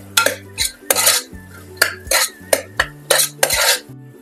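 A spoon clanks and scrapes against a pan about ten times in uneven bursts while tomatoes, frozen peas and a handful of coriander leaves are stirred together, close and fairly loud with quiet gaps between strokes.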